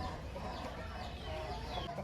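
A rooster offered for sale clucks softly and faintly against steady background noise, with no talk over it.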